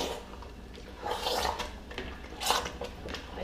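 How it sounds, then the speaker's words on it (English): Plum and blueberry pie filling simmering in a pot on the stove, giving a soft, steady wet bubbling and popping with a few louder bursts, heard close and alone. "Hear how it's kind of bubbling like hot lava?"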